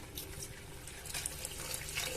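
Water pours steadily into a pot of meal maker (soya chunk) curry, a continuous splashing gush that stays even and close for the whole moment.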